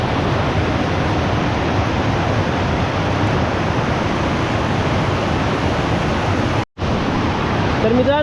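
River water flows steadily in a rural stream during monsoon rains, a broad, even rushing wash that holds constant and close, broken only by a momentary dropout near the end.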